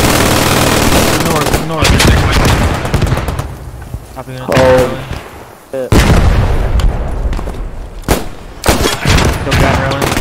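Heavy gunfire in the WWII shooter Post Scriptum, with loud bursts of machine-gun fire and single rifle shots repeating throughout, plus booming impacts, as voices call out over the shooting.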